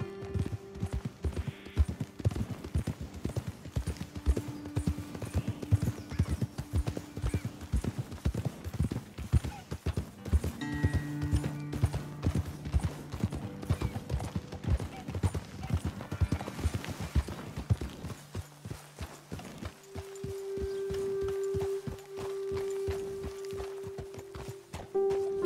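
Horses walking in Red Dead Redemption 2, a steady stream of close clip-clop hoofbeats with tonal music humming underneath.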